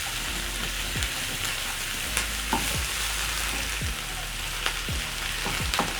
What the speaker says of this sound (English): So once all the onions are coated with the cooking oil, I'm going to wait for my onions to cook for 1 to 2 minutes.